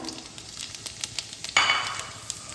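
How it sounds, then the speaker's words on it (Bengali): Dried red chillies, cardamom, cinnamon and cumin seeds hit hot oil with a sudden burst of sizzling crackle, over faint scattered ticks and pops from the pan, no voices. "ক্যাপসিকাম ভাজার তেলে আমি ফোড়ন দিয়ে নিচ্ছি দুটো শুকনো লঙ্কা তিনটে এলাচ দারচিনি দুটো দানা আর এক চামচ সাদা জিরে তেলের মধ্যে দিয়ে দিলাম"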